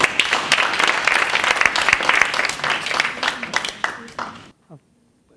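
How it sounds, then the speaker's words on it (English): Hearty audience applause at a live speaking challenge event, dense clapping for about four seconds that then stops abruptly, followed by a brief voice. "Give a round of applause,"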